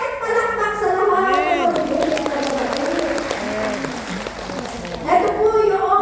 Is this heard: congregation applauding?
yes